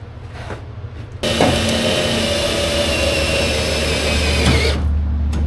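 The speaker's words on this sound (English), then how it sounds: "I'm gonna run some self tappers in it, try to hold it where I need it" A power drill runs continuously for about three and a half seconds, driving self-tapping screws into the metal of a drift car's seat mounting, loud and close, with quieter workshop noise before and after.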